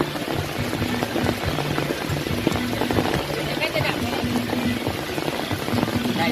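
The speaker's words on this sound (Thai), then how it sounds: "ลมแรงมาก ทำากลางสายฝน" Heavy rain and strong wind lash an outdoor offering ceremony at a takhian tree shrine in Sangkha, Surin, a dense steady roar filling the whole stretch with a faint tonal hum running beneath it.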